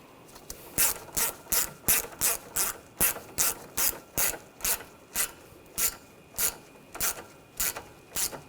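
Hand ratchet clicking in quick, steady bursts while tightening bolts on the AC condenser of a 2007-2013 BMW X5 3.0L, close and clear with roughly fifteen repeated strokes and no talking.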